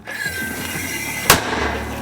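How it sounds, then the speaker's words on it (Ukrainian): A single sharp mortar shot from a Ukrainian mortar crew's field position cracks out loud and close, a brief broadband blast that stands out above steady outdoor background noise. "Постріл!"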